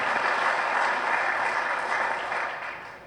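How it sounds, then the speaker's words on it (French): An audience applauds steadily at a ministerial launch ceremony for trade and industry, a dense, even wash of clapping that fades slightly toward the end. "Je vous demande d'applaudir."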